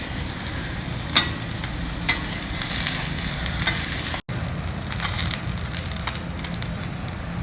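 Bread slice frying in ghee on a flat pan, a steady soft sizzle running throughout with a few light clicks and scrapes from turning it over.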